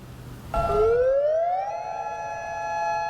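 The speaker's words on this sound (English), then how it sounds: "A tornado siren is a tough wake-up call." A tornado warning siren starts abruptly and winds up in pitch, then holds a steady, loud wail with layered tones, sounding from some distance outdoors in Lucas County.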